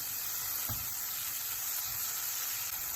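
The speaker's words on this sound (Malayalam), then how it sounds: "ഈ പരുവാകുമ്പോൾ നമുക്ക് ചെറുതായിട്ട് അരിഞ്ഞ് വെച്ചിരിക്കുന്ന തക്കാളി ഇടാം ഇനി ഈ തക്കാളിയും റോസ്റ്റ് ചെയ്ത്" Chopped tomatoes roasting in a pan for chicken kadai, a steady close hiss of sizzling with a faint stir or knock early on, no talk.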